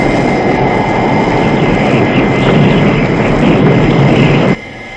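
A stricken aircraft losing altitude over the Arctic gives a loud, steady roar of engine and rushing air with a whistling tone on top, then cuts off sharply near the end.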